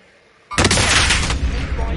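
Gunfire erupts abruptly after a short quiet lead-in during a Warzone tournament match, loud, dense and sustained for the rest of the moment, with rapid shots blending into a continuous roar.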